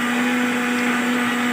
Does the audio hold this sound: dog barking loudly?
no